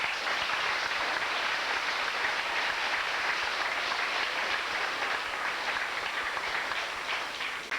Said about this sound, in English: so they need an extra applause for all of us.